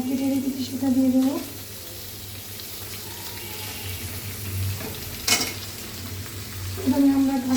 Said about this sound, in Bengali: এখন আমরা যে গাজরটা আমরা কেটে রেখেছি সেটা দিয়ে দেবো।